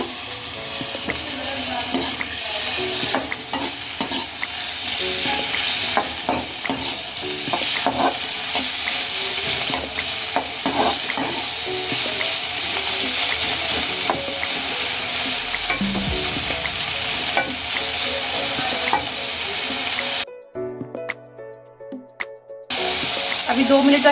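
Schezwan fried rice with peas and soya chunks stir-fried in a hot pan, loud sustained sizzling with repeated scraping and tossing strokes, close-up, briefly cutting out near the end.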